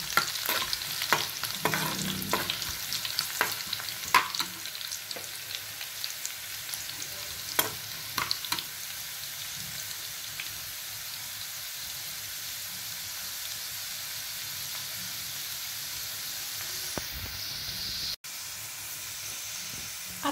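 A phodni tempering for pithla sizzles in a pan, with a constant close hiss of hot oil broken by scattered crackles and pops, steady and alone with no voices.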